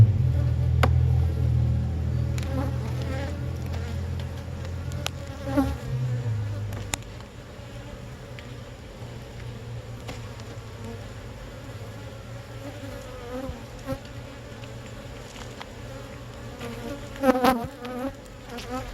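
Honeybees buzz steadily inside an opened hive during an inspection of drawn comb, a dense, continuous hum with a louder low drone in the first several seconds, then a softer even buzz with occasional brief knocks and rustles.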